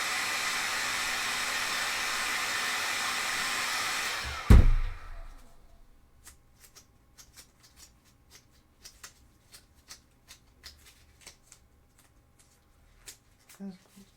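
A hot air gun blows steadily and loudly while heating a Sisters of Battle cosplay armour piece, then shuts off abruptly, leaving quiet handling clicks and small taps.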